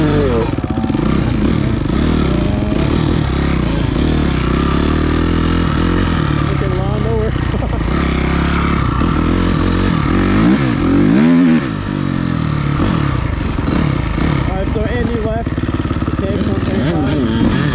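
A 250R motorcycle engine drones steadily while riding, loud and close with wind roar and rattling, people talking over it throughout.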